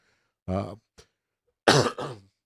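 Two short bursts of coughing and throat clearing, close and loud, separated by a tiny click and silence.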